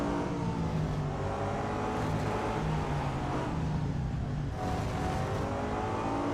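A BMW M3 GTR engine roars steadily in the Real Racing 3 game, a loud, sustained growl with rising and falling pitch and no talking over it.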